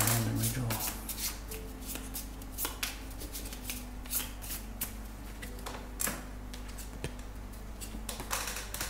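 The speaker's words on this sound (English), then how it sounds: "I need to shuffle my hand and redraw" Playing cards being shuffled during a Europe Divided board game session, a run of crisp riffling and snapping card sounds over a low steady hum, with quiet background voices.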